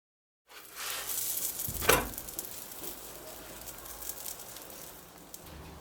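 Stuffed mini bazlama flatbreads cook in a pan on the stove with a soft, steady sizzle and a brief louder rustle near the start, then quiet frying hiss with no talk.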